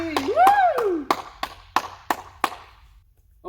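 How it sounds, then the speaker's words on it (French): Several sharp claps ring out in a loose, uneven series during a parent-child group lesson, with a cheerful voice talking over the first second. "on peut s'applaudir tous très fort"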